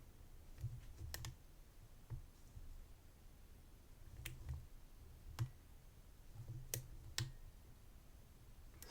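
Lock pick tension and pins inside a True Value 725 padlock give small scattered sharp clicks and ticks, faint and close over a low hiss, irregularly spaced, with no voice over them.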